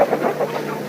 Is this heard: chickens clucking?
yes